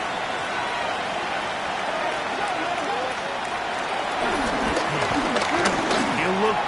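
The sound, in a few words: football stadium crowd cheering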